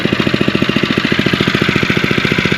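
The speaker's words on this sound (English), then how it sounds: "Let's try to start it without the choke and see what happens." A Phatmoto All-Terrain 2024 motorbike engine fires up without choke and settles into a steady, rapid idle with evenly spaced chugging pulses, close and loud.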